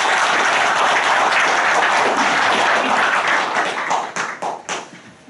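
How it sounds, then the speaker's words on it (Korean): Sustained applause from an audience at a Korean family clan association award ceremony, loud and steady, then breaking into scattered individual claps that fade near the end. "큰 박수 부탁드리겠습니다."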